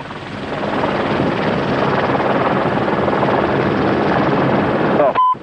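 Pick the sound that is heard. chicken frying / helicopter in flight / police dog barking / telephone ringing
helicopter in flight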